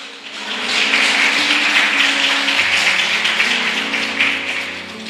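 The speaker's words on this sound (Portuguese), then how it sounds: "Será que você pode aplaudir a Deus?" A church congregation applauding, a sustained wash of many hands clapping at once, fairly loud and steady for several seconds, with a low musical hum underneath.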